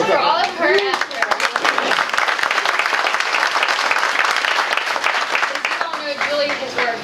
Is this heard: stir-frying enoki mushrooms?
no